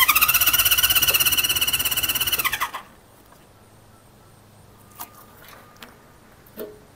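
A 1973 Honda CB350 Four motorcycle engine runs with a loud, even buzzing whine for under three seconds, then cuts out abruptly, leaving quiet background and a few faint squeaks.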